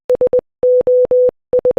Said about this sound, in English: Here's the actual Morse code for SOS if you don't believe me.